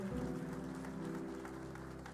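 A church congregation breaks into brief applause, a dense wash of clapping that swells at the start and gradually thins over a couple of seconds, with a low sustained tone underneath.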